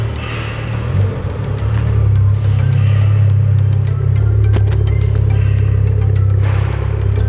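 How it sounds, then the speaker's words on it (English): A tuned V6 diesel engine growls loud and close with a raspy idle, swelling into a heavier, sustained rumble with slight revving, and no voices over it. "raspy growl now from the V6 diesel"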